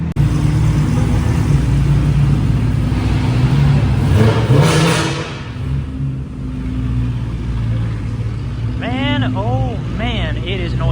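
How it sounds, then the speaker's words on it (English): Sports cars rev and hum in an enclosed parking garage in Yorkville, Toronto, with a loud, sustained engine roar that swells around four seconds and then settles into a steady rumble, with people talking over it throughout. "cars just keep humming and humming down in the parking garage here in Yorkville"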